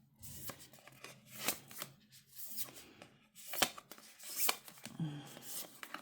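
A deck of cards from a board game is shuffled close by, a run of soft riffling bursts and light flicks in an irregular rhythm, quiet and with no talk.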